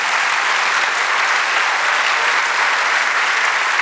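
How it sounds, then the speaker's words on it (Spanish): A church congregation claps together in steady, continuous applause, full and close, with no voices standing out. "Denle un aplauso al Señor"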